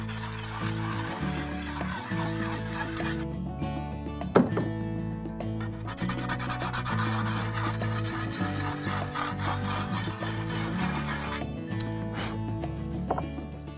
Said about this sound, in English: I'll just use the sharpening stone, and then sharpening it by doing circles on a 45 degree angle.